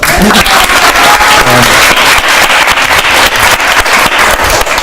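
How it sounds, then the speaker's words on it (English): Loud, close audience applause at a devotional planning gathering, a continuous burst of clapping with a few voices mixed in beneath it. "Now you can clap."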